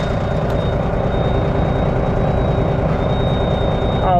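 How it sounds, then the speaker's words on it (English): A thin, steady high-pitched buzz from the low air warning on an M923 5-ton military truck sounds faintly over a heavy idling diesel rumble, running continuously throughout. "Now your low air buzzer has to work too, and I hear it, but it's like super quiet."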